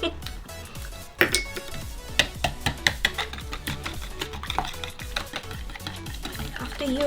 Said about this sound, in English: After you add egg, please mix well.